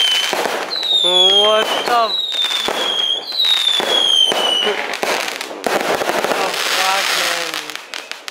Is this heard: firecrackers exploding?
yes